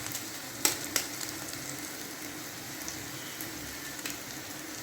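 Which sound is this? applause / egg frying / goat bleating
egg frying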